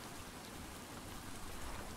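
Steady rain falls in the survival video game Stranded Deep, a dense, even hiss of drops on surfaces that fills the whole stretch without pause or voices.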